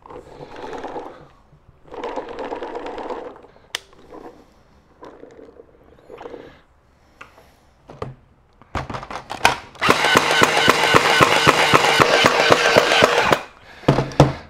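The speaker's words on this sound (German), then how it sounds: "dass ich hier eine halbe Stunde am Stück schießen kann." X-Shot Hyper Gel Gatling gel blaster, a prototype, spinning up and firing, first a few short bursts of mechanical whirring, then a loud sustained rattling stream of shots for several seconds before cutting off.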